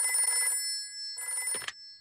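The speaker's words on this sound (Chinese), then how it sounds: "我们打电话给猪爷爷" A telephone rings in a Peppa Pig cartoon, two short bursts of a bright electronic ring separated by a pause, with a small clatter at the end of the second.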